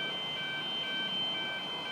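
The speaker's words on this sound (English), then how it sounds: "There's some alarm going on." An electronic alarm beeps outdoors in repeated, evenly spaced high tones, fairly distant and steady over a constant background hiss.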